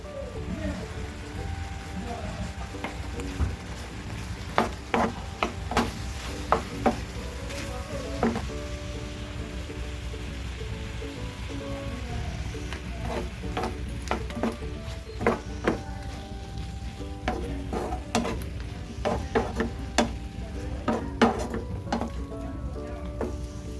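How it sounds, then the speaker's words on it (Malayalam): A jaggery and coconut mixture with crushed cardamom bubbles and sizzles steadily in a pan while a spoon scrapes and stirs, soft clicks and taps scattered over the constant frying hiss, with a voice talking at times. "ഇളക്കി ഇതൊന്ന് പറ്റി വറ്റിച്ചെടുക്കാമേ"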